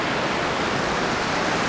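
Waterfall at Þakgil, Iceland, heard up close as a loud, steady roar of rushing, crashing water that fills the whole moment without break.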